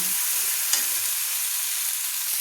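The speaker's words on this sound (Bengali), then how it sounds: "মশলাটাকে সুন্দর করে আমি একটু কষিয়ে নিচ্ছি" Spice paste with Kashmiri chili powder sizzles steadily in a hot pan for potato curry, a close, even frying hiss with a single soft stirring scrape partway through.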